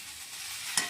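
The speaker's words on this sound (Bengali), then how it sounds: "ফুলকপিটা প্রায় ভাজা হয়েই এসেছে" Cauliflower fries in an oiled pan with chopped tomato for a roast dish, giving a brief, steady close-up sizzle with a quick stirring scrape near the end.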